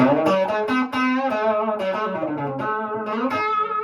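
A clean, warm Johnson Delta Rose hollowbody electric guitar on its neck pickup, played through an Orange Rocker amp, plays a short melodic riff with sustained notes, close and clear, no voices.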